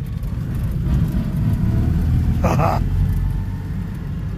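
A Citroen 2CV's small engine rumbles steadily from inside the car while driving, a low continuous drone with a brief change as it shifts down to second gear, a short laugh heard over it.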